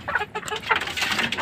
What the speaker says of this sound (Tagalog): Pero malaki talaga tong lalaking manok.